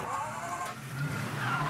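A car in the open-world game Mafia 3 pulling away, with tire squeal and engine noise that hold steady through a short burst at close range.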